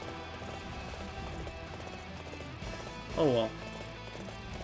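A horse gallops in Dynasty Warriors 8 Empires, its steady hoofbeats running under continuous battle noise while someone speaks briefly over them.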